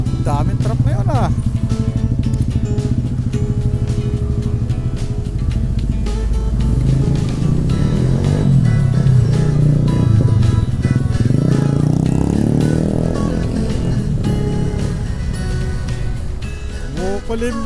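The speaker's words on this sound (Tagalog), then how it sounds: "Daming truck ngayon ah." Road traffic heavy with trucks rumbling past a Burgman Street 125 scooter, engines swelling and fading as vehicles go by, a loud passing surge in the middle, with someone talking over the noise.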